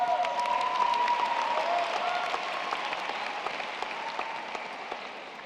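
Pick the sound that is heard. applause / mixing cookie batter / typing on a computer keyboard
applause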